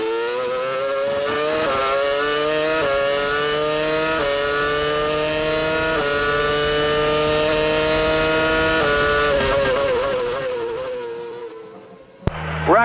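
A 2006 Formula 1 car screams through an onboard lap of the Canadian circuit, its engine wailing near 19,000 RPM. The pitch climbs and drops sharply with each gear change, loud and close, and it cuts off abruptly at the end.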